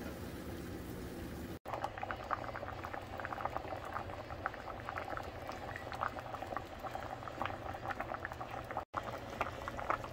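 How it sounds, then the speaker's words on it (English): Pot of pinto beans at a rolling boil, a continuous dense bubbling and popping patter, fairly quiet and close, steady throughout with no talk. "we're going to boil this until basically the outside of the bean, the little shell thing, uh, starts to crack"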